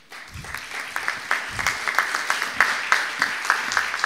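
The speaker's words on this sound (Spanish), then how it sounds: "demos un aplauso a la señorita María del Carmen Medina." Audience applause for a speaker at the launch of a district youth bloggers' network, with steady, fairly close clapping that fills the room from start to finish.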